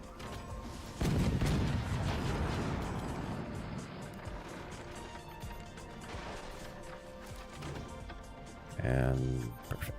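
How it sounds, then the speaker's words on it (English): Heavy cannons firing in the strategy game Forts, a loud, sustained barrage of booming blasts and crashing impacts that rumble together, with a fresh heavy hit near the end. "Got some heavy cannons."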